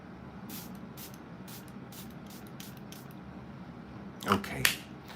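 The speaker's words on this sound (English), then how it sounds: "I'm just putting a little bit of spray because I want the eyes to be locked in" Makeup setting spray misted over the eyes, heard as a couple of short, close, hissing bursts near the end, following a quiet stretch with faint intermittent noises.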